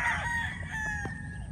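A full-grown Casmino white straight-comb gamefowl stag crows once, close and clear, its call ringing out over low background noise.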